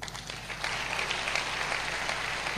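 Applause from a crowd, a steady wash of clapping that swells after a brief pause and carries on evenly.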